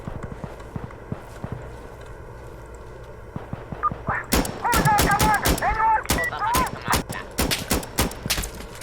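Rapid gunfire from the video game Insurgency Sandstorm erupts midway in loud, sharp bursts of shots, with someone talking over it and game noise beneath.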